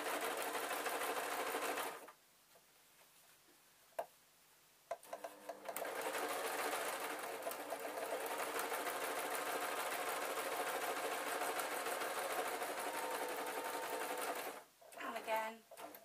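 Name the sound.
sewing machine stitching fabric storage box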